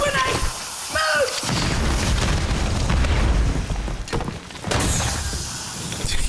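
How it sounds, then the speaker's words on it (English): A grenade blast in the shooter game Warzone: a heavy rumbling boom that swells and lingers for several seconds amid gunfire and game noise, with voices shouting over it. "Grenade!"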